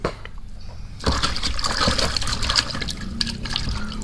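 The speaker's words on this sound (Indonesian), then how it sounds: "Nah, ini ada air bersihnya teman-teman. Yuk kita cuci yuk." Clean water splashing and trickling as muddy plastic toy animals like a hippo, lion and tiger are washed, starting quietly then turning into steady close pouring and sloshing; no speech.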